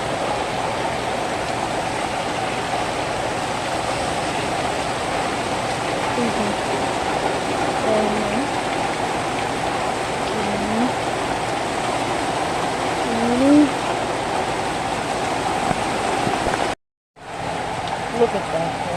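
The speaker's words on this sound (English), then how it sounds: "It is so rainy outside." Heavy rain pours steadily outside as a constant broadband wash, loud and unbroken for most of the stretch, with a brief dropout near the end before the downpour resumes.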